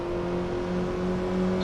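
Race car engine droning steadily close by, a sustained even hum with a faint rising whir as another car runs alongside on the left, no voices.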